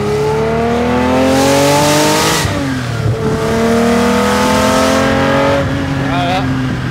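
A Mazda MX-5 engine growls loudly up close, revving and accelerating through several gear changes as it drives along at about 50.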